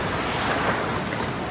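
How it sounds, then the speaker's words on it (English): Strong wind and breaking surf at Santa Rosa Beach, Florida, make a constant loud rush of waves and gusts buffeting the microphone, with no speech. "The wind is strong today,"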